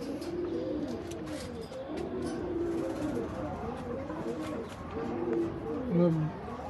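Pigeons coo repeatedly in low, rolling phrases close by while a female Jelly pigeon is handled indoors; someone talks over much of it.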